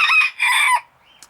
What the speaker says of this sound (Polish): Widzę, się tu przekrzykują te kogutki.